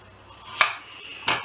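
A knife chops parsley on a board, giving two sharp isolated strikes roughly half a second apart, close and fairly clear.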